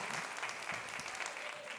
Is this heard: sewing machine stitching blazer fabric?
no